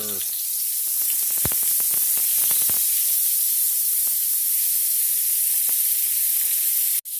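Butter and oil sizzle and hiss steadily in a hot pan, a constant bright spray-like crackle with a few sharp pops near the start, ending in a brief loud burst.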